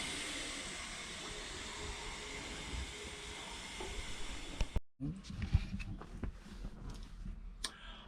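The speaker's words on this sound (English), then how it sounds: "Oh, the kettle's on." An electric kettle heats on board a twin outboard boat, a steady broadband hiss and rumble building to the boil and then cutting off, followed by quieter clicks and clatter nearby.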